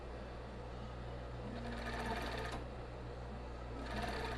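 A twin-needle sewing machine stitches a seam on elastic bra fabric, its steady hum with quieter stretches and bursts of faster whirring.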